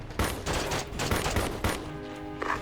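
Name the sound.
gunfire in the video game Ghost Recon Advanced Warfighter 2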